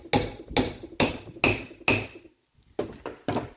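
Seven sharp metallic hammer taps on a bearing driver during brake service on a 1991 third-generation Camaro, evenly spaced with a brief pause before the last three, close and ringing.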